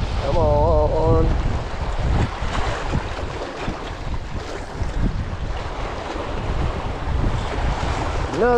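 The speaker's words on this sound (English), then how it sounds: "Trying to keep us out of the wind here." Steady wind buffets the microphone on a small fishing boat out on the water, with surf-like noise and broadband rush filling the clip, and a brief tonal whine near the start.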